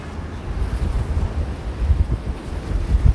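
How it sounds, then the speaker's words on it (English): Strong, gusty wind buffeting a microphone on a downtown Jersey City street near Grove Street in January, a continuous low rumble with surging bursts throughout and no talking. "My gosh, that wind is brutal."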